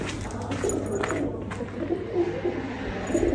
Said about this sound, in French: Et des pigeons.